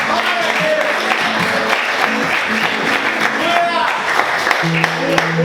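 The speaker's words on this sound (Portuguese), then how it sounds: "Aplauda o Senhor muito forte." A church congregation claps steadily and loudly through a worship service, dense continuous applause with voices and music mixed in beneath it.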